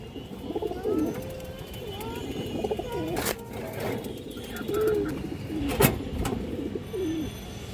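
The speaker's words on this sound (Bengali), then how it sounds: "রাব্বানি লাইনের একটা মাদি কবুতর" A female pigeon of the Rabbani line coos in repeated low, rolling calls, close by, with a few sharp handling knocks and clicks between them.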